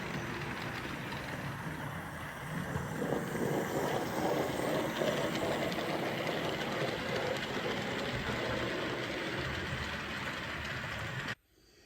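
A model train runs steadily along a layout for nearly twelve seconds, with a continuous rolling rumble and faint clatter at an even level before it stops abruptly at the end.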